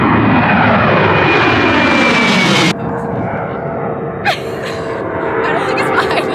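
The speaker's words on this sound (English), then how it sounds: "And then the planes come. We'll show you guys the planes." An airplane passes overhead with a loud, steady broadband roar. The roar drops off abruptly partway through and leaves a softer drone with a few faint background sounds.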